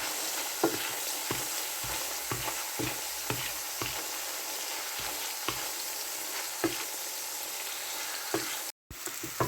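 Onions fry in leftover olive oil, a continuous close sizzle punctuated by regular stirring clicks and taps against the pan, with a brief dropout near the end.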